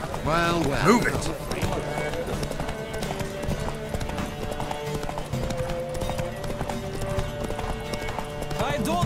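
Galloping horse hooves during a horse race in The Witcher 3, a rapid continuous clip-clop close by, with a whinny near the start and background music and voices throughout.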